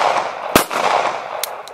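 A single sharp report from a Ruger LCP compact pistol fired at a range, one loud broadband crack near the start, followed by faint background noise and two brief high clicks.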